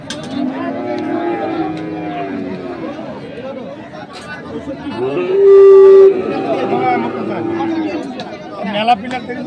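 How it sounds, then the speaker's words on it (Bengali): Crossbred bulls at a rural cattle market fill the air with low moos and lowing amid a busy crowd, where people chatter and haggle close by throughout, with one brief steady tone midway. "ক্রস জাতের ষাঁড় গরুগুলোকে।"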